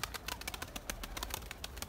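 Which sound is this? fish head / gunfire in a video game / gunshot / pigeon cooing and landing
pigeon cooing and landing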